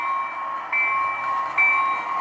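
Model train locomotive running on a small switching layout, giving a steady, close mechanical hum with bright tonal whine that swells and dips as it moves, with no voices.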